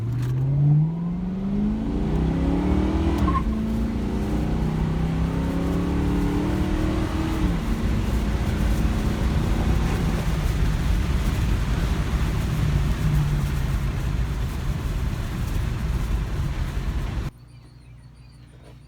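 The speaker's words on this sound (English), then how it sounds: "We'll launch it good one time with the new mufflers." Ford Mustang GT fitted with Thrush welded mufflers launching hard, its loud V8 exhaust rising in pitch through the gears as it pulls away, steady and close for most of the stretch before cutting off abruptly.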